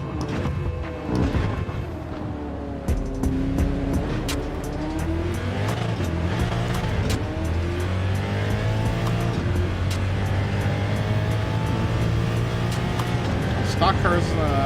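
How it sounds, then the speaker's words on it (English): Indy car engine in Gran Turismo 7 on a racing circuit, a loud sustained high-pitched roar with rising and falling revs across gear changes, running continuously near and up front while a voice talks over it. "I think Indy cars might be the loudest cars I've heard."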